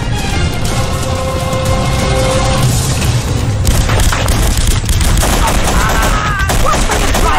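Rapid gunfire erupts during a pier shootout in the 2005 film The Punisher, loud dense bursts and booming shots over a rumbling background, with brief shouted voices.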